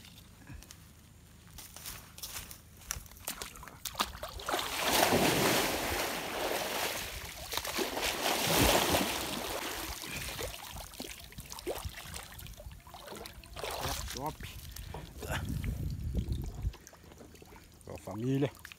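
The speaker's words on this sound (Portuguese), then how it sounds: "Estamos aqui no lago." Lake water splashes and sloshes around someone bathing, with surging washes of water and rustling movement close by, under intermittent talk.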